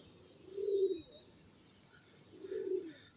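Pigeons released for a fight coo softly outdoors, two low throaty coos about two seconds apart, faint and close, with faint chirps in the background.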